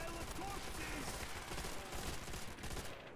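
Automatic weapon fire in a custom Call of Duty Zombies map rattles continuously at a fairly low level, a steady, unbroken stream of rapid shots.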